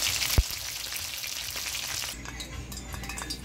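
Loud, steady sizzling of bangamary fish frying in hot oil, with a sharp clink near the start and the crackle easing slightly toward the end.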